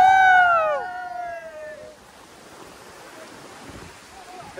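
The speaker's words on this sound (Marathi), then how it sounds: "समुद्राची भरती वाढली आणि लाटा सारख्या" Waves surge onto a Konkan beach at rising high tide as a steady, broad wash of surf, opened by a short, loud, wavering high-pitched call that fades within two seconds.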